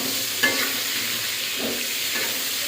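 Pointed gourd (potol) fries in a pan with a constant hiss of oil, a few soft stirring scrapes breaking through the sizzle, close and fairly loud, with no talking.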